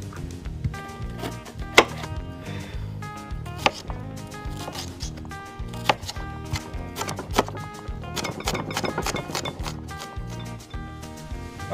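Bell pepper being diced finely with a knife on a cutting board for black bean corn salsa, rapid rhythmic chopping knocks close up, continuous with brief pauses.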